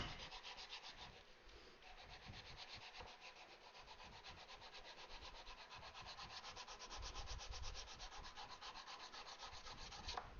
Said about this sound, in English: I'll sand it out.